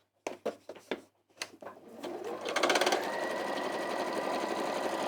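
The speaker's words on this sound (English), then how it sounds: "That little noise was a protest because I started sewing off the end of the fabric and machines just don't like it" A sewing machine running during a quilted beach hut wall hanging demo, a few short stuttering needle bursts that build into a continuous fast whirr as it sews off the end of the fabric, close and fairly quiet.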